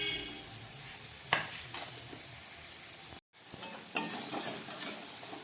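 Cumin, coriander and chili powder frying in oil in a pan, a continuous hiss with a few clattering stir scrapes and a brief dropout midway.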